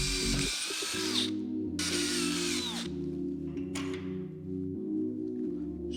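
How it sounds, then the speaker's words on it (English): Power drill boring through stacked steel plates clamped in a vise for a DIY transmission crossmember, two loud sustained drilling passes with brief pauses and pitch dips as the bit bites, close and alone. "I'm just going to use the pre-drilled holes as a template to just drill straight through there."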